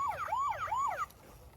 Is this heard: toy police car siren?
yes